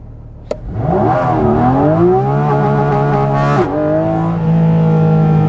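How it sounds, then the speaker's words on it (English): A 2023 Porsche 718 Cayman GT4 RS at full throttle in manual mode with traction control off, its engine revving hard and loud with a climbing, rising pitch that drops briefly at a shift, then pulls on strongly. "I'll just floor the throttle."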